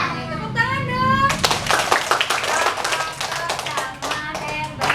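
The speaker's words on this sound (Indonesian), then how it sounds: "Tepuk tangan dong." Children at a writing camp clap their hands in a burst of uneven, close claps, with kids' voices and an adult talking over and before it.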